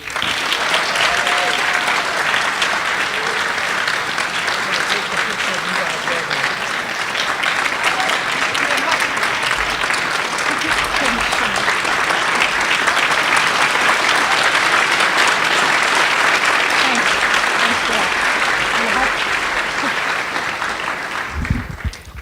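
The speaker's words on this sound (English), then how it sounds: "thank you so much for your applause" Long, sustained applause from a dinner audience, a dense, even wash of clapping that stays loud for over twenty seconds before tapering off at the end.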